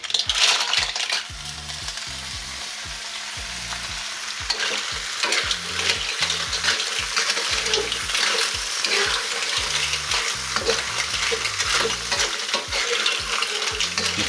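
Clams stir-fried in a hot wok with black beans, garlic, chilies and spring onions, giving a loud steady sizzle with a rapid scraping, clattering rhythm of stirring throughout, no voices.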